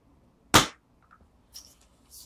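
A single sharp, loud shot from a Webley Alecto pump-action air pistol fitted with a moderator, followed by a few faint mechanical clicks and quiet handling noises.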